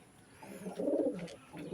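At a pigeon farm in Bangladesh, pigeons give soft, low, throaty coos, a couple of quiet rolling calls close by with no voices.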